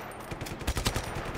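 Rapid gunfire in the video game Just Cause 3, a quick burst of repeated shots with loud thumping peaks, close and dense, with no talk over it.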